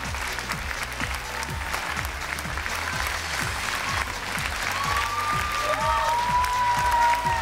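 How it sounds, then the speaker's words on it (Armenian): Audience at an X-Factor Armenia gala result show clapping steadily, a dense sustained round of applause from a large crowd, with a few faint melodic tones rising over it toward the end. "Եկեք ավելի բարձր ծափահարենք այս պահին"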